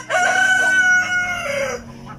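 A fighting rooster crows once on a farm, a loud close crow of about two seconds, no talk.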